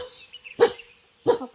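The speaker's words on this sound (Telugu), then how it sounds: "కుక్కలు అరుస్తున్నాయి" Two sharp dog barks about half a second apart ring out in a quiet forest setting, fairly close, with a faint bird call in the background and no talk.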